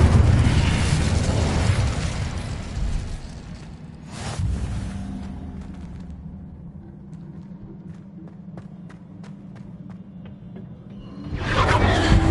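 A fire spell cast in Hogwarts Legacy bursts out with a loud whooshing blast, then fades into a low crackling rumble with scattered sharp pops, before another roaring surge at the end.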